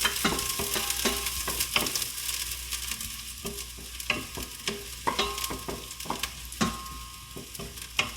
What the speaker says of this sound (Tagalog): Then, we're gonna saute the garlic first.